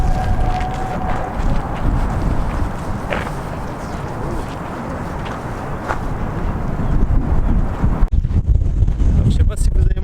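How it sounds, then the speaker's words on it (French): Heavy wind buffets the microphone in a constant loud rumble in San Francisco, with a voice speaking French underneath and occasional gusts growing rougher toward the end. "Je sais pas si vous allez m'entendre beaucoup parce qu'il y a beaucoup de vent."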